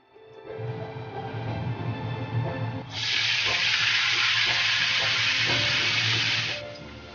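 Yogurt-marinated vegetable curry hits hot oil in a wok, starting a loud, steady hiss that holds for several seconds over kitchen clatter and stirring, then fades away near the end.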